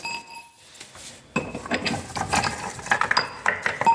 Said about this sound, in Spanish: Saco todos los tornillos.